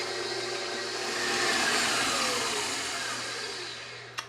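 An electric mixer whirs steadily through cookie dough for cinnamon roll cookies, a continuous close motor drone that swells slightly mid-way and ends with a brief knock.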